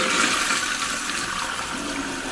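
A toilet tank refills with water after a fill valve repair, a steady loud rush of water filling the tank alone, without pause.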